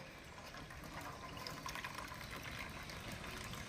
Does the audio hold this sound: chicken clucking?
no